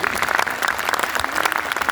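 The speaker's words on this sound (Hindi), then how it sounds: "तालियां बजा दीजिएगा" A short burst of lively applause from a crowd, dense clapping filling the space with no voices.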